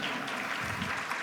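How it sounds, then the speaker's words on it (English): Brief audience applause at an education awards event, a dense patter of clapping from a room full of people heard alone for just over a second. "You may applaud now, if you like so."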